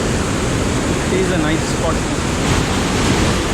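Rushing water of the Rhine Falls near Schaffhausen, Switzerland, a steady broadband roar filling the whole clip while a person speaks briefly over it.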